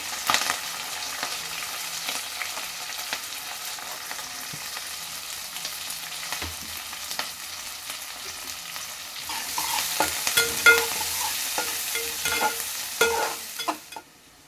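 Chopped green chillies and onions fry in hot oil in a pan, a steady close sizzle that swells louder and busier partway through, with scraping stirs near the end and no voices.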